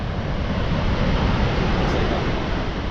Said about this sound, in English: This is Virginia Falls. We're at the edge of the precipice.